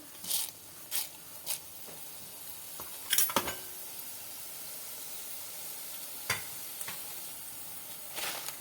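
Mustard and fenugreek seeds hitting hot oil, giving soft intermittent crackling bursts and pops over a low steady hiss, close by with no voices.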